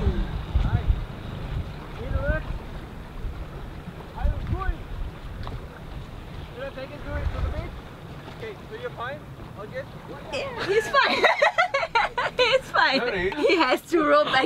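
Strong wind buffets the microphone aboard a sailboat at sea, a steady low roar and rush beneath people talking, growing louder and gustier toward the end.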